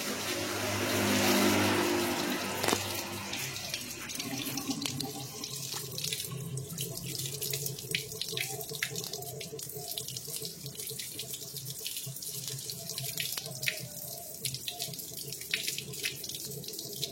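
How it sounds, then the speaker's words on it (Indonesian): Coolant water gushes steadily out of an opened drain tap on a car radiator, a continuous close splashing pour that swells loudest in the first seconds and then runs on evenly. "Nah itu air sudah mili ke bawah. Nah itu air sudah tergerojok"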